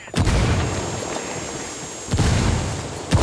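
A frag grenade blast in the shooter game Ghost Recon Wildlands, a booming explosion with a rumbling tail and a second thump about two seconds later, loud and close, with no talk.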